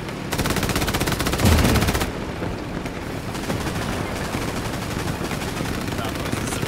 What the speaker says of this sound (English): I'm just hearing these machine guns just going off